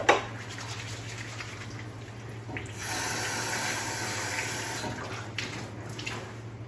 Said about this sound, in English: it's very, very important that we always keep our hands washed and clean.